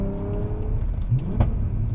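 A 550 HP Volkswagen Golf R32 engine pulls hard under acceleration from low revs, a dense, steady mid-low drone heard from inside the car with a couple of brief mechanical clicks.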